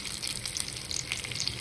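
Chana dal and curry leaves sizzle in hot oil with spluttering mustard seeds, a tempering for instant sooji handvo, giving a close, steady crackle and hiss without any voices.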